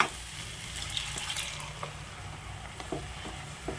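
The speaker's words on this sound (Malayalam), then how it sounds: "എന്നിട്ട് ഈ വെള്ളം കൂടെ ഈ അരപ്പിലേക്ക് ചേർത്ത് കൊടുക്കാം" Water from a mixer grinder jar gushes into ground roasted coconut masala paste for a homestyle chicken curry, a close, continuous pour with light splashes and small knocks of the container.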